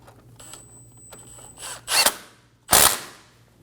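A power tool snugs down a brake line bracket bolt on a 2008-2015 Scion xB, with a light whir and then two short, loud bursts of impact rattling close by.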